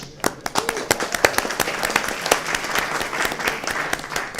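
Sparse, scattered hand claps from a panel audience build into a few seconds of light, uneven applause at moderate distance, with individual sharp claps standing out.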